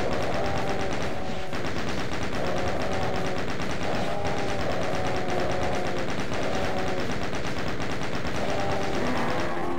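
A minigun blazes away in the video game DOOM, a loud, unbroken rapid-fire rattle that runs the whole time with no pauses, and game sound effects sit beneath it.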